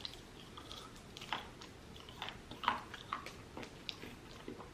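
Close, quiet chewing and biting on Five Guys fries and a hot dog, soft irregular crunches and mouth sounds spaced a second or so apart, with no talking.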